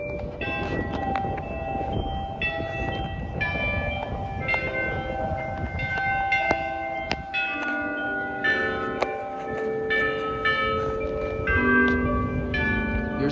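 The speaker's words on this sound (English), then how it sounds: "That's a short Westminster chime at the first quarter." A church bell rings a short Westminster chime at the first quarter, its clear overlapping tones ringing out in a steady sequence over a constant low background rumble.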